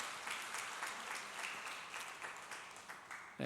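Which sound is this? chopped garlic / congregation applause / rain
congregation applause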